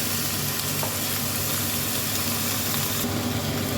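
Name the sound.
broken Gobindobhog rice frying and stirred with onions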